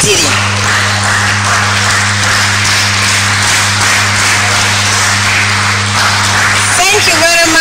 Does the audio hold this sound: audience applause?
yes